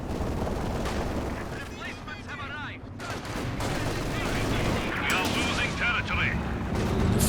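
Katyusha rocket artillery and gunfire boom in rapid, overlapping bursts in a Company of Heroes 2 battle, with dense rumbling explosions and crackling shots, while a voice talks over it.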